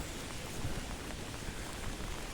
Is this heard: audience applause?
no